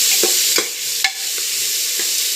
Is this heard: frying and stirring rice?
yes